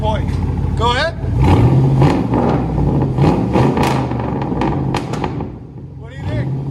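A 2006 Chevy Tahoe with a 5.3L V8 and straight-piped true dual exhaust, revving hard and loud close by in a deep, rough roar that rises and falls, with people talking and shouting over it.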